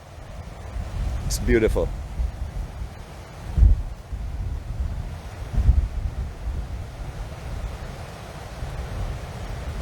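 Wind blowing at a beach at sunrise behind sand dunes, a steady rushing buffet across the microphone with low gusty swells, while people talk briefly nearby.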